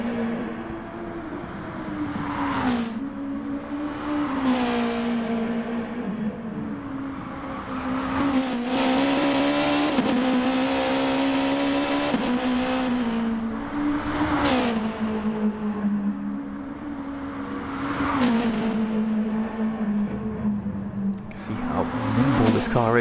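Race cars in GT Sport lap the Green Hell circuit, their engine notes droning continuously and swinging up and down in pitch through a sequence of corners, with a commentator talking over them throughout.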